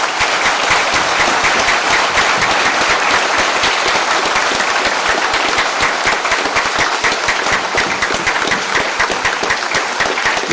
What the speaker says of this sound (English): we owe every one of them a round of applause this evening